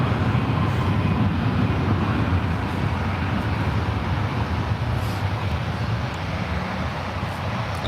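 Jet airliner, a Frontier flight, departing runway 01 left at San Francisco airport, a steady broadband roar heard from a distance that holds even across the whole stretch, with no talking.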